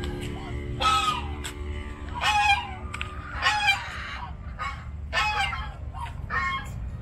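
Ducks at a rural farm-style restaurant in Rangsit, Khlong 15, Thailand, give repeated harsh quacking bursts in uneven clusters, fairly close, over a steady low background rumble.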